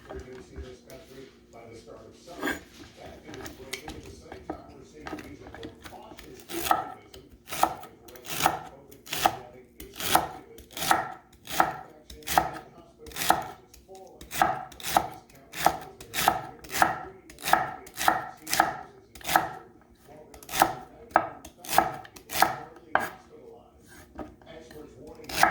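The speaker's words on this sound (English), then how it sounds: "And then celery, and so chop small." A knife chops celery into small pieces on a cutting board, first sparse and then in a fast, steady run of crisp close knocks, with quiet talk underneath.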